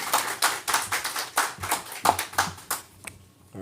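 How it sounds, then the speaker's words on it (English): Audience at a company annual general meeting claps to welcome the next speaker, a brief burst of uneven hand claps from a modest crowd, fading out near the end. "Give Stuart a clap for me, please."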